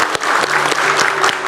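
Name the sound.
audience applause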